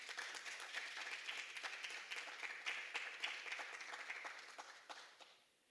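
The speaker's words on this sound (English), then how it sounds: "Let's give her a round of applause." Sustained applause from an award ceremony audience, dense steady clapping that runs for several seconds before fading out at the end, with no talk over it.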